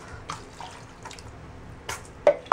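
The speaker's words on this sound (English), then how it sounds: "Now we're gonna go ahead and pour the clean water over him." Clean water is poured over a hedgehog during a bath, giving soft splashes and trickles with a few sharper drips and splats near the end, close and moderately loud.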